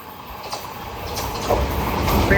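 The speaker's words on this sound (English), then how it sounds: "Train now approaching platform 2 does not stop here." A non-stopping train rushes through South Croydon station on the Brighton Main Line, a steady loud roar of wheels and air building across the platform with faint clatter and a brief squeal near the end.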